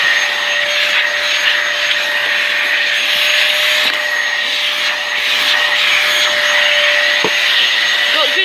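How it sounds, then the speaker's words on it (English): A Dyson DC08 Animal vacuum cleaner runs steadily with a small attachment, cleaning little corners. A loud, constant motor whine and airflow hiss hold close up from start to finish with only slight wavering. "we'll take this and do some little corners"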